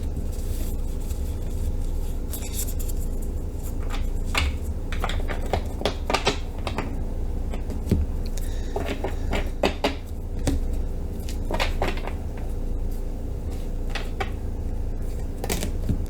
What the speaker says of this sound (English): And I'll try to shuffle